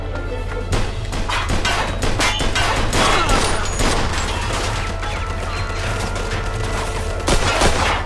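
Rapid gunfire in Mafia 2 Definitive Edition, a dense burst of repeated sharp shots and booms through the whole stretch, close and loud, with occasional voice underneath.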